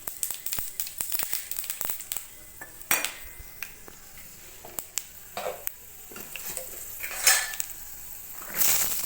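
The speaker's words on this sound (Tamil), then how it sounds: "கடுகு போட்டு தாளித்து விட்டுட்டு கடலைப்பருப்பு போட்டிருக்கேங்க" Mustard seeds and chana dal tempering in hot oil in a pan for tomato chutney, with sporadic crackles, spoon stirs and clinks of cookware, sizzle swelling briefly near the end.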